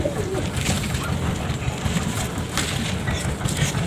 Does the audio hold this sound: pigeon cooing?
yes